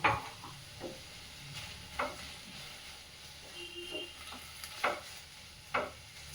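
Tomatoes being stirred in a cooking pan: a spoon scrapes and taps at irregular intervals, several distinct close knocks over a soft steady hiss, with no talking.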